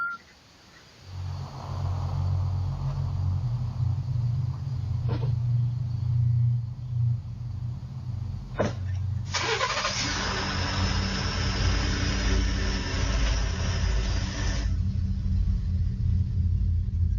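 A car engine rumbles steadily at close range, then revs up as the vehicle pulls off quickly, with a brief sharp knock partway through; no one speaks.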